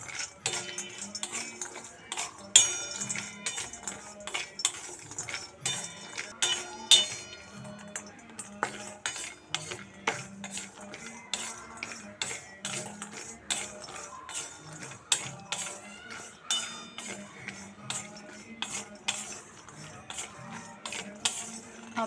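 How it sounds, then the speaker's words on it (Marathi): Cashews, walnuts and pistachios roast dry in a pan for a homemade baby cereal, with steady metallic clinks and scrapes of a spatula and nuts rattling against the pan, close and busy throughout with no talk. "आपले ड्रायफ्रूट छान असे भाजून झालेले आहे, ते पण आपण ताटात काढून घ्यायचे।"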